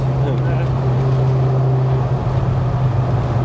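A Ferrari 360 Spider's engine hums steadily with a low exhaust drone throughout, loud and close, its pitch nearly constant.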